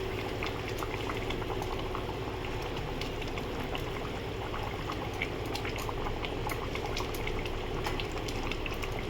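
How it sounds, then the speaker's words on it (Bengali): Rohu fish curry in mustard sauce boiling in a pot, a continuous close bubbling with dense small pops and gurgles, steady and even throughout. "আমার তরকারিটা ফুটে গেছে"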